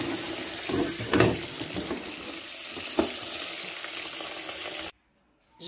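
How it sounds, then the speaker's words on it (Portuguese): Water draining out of a pot of boiled bamboo shoots soaked with baking soda, a steady broadband splashing and pouring rush with a couple of louder gushes, ending abruptly in near silence. "Então, já vou descartar essa água aqui."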